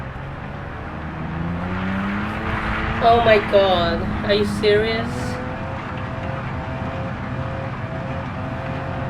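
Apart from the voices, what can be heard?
car engine running after being cranked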